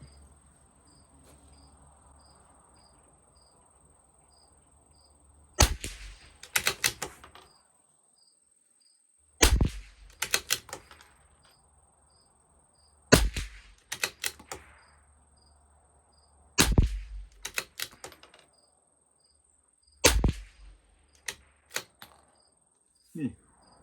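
A CZ 457 LRP rimfire rifle firing RWS Special Match ammunition at 50 yards: six sharp, loud shots spaced several seconds apart, each followed by quick bolt clicks, over a steady background of chirping insects.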